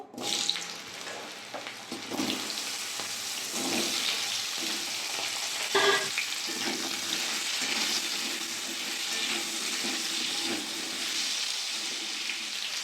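Potato and taro pieces frying in hot oil for a Bengali shrimp and vegetable dish, a steady dense sizzle with bursts of bubbling and a brief sharper crackle midway, continuous and fairly close with no talking.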